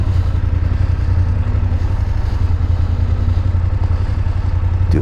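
A 2024 BMW F900GSA motorcycle rolls slowly through a parking lot with a steady, loud low engine drone and rumble, and no talking.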